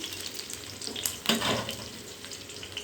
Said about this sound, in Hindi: एबे एथिरे पियाज, टमाटो पकाइबी।